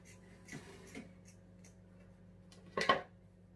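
Scissors snip off the end of a ribbon-like craft material, one quick close cut after a few faint handling taps in a quiet room.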